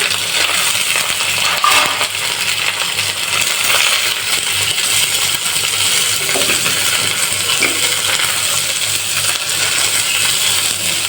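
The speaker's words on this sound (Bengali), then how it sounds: "তেলের ভিতরে কাঁচামো পেঁয়াজ আর রসুন দিলাম" Raw onion and garlic hiss and crackle steadily in hot oil alongside fried neem leaves, a dense close sizzle with occasional scraping stirs and no voices.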